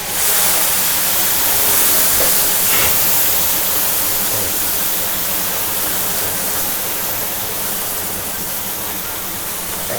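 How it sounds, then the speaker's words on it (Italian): Tomato sauce spatters and sizzles in a hot pan while spaghetti all'assassina is cooked by an Italian chef, a loud, steady hiss that runs unbroken and close throughout. "Mo si deve allontanare che ancora schizza il pomodoro"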